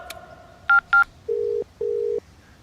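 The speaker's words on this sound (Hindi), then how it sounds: "रिंग जा रही है सर।" A telephone call is dialed: a brief tone, then two short paired DTMF beeps followed by two longer steady ringback tones, clear and close with no voices.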